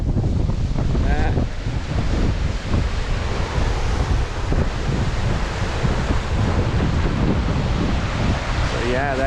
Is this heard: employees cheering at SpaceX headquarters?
no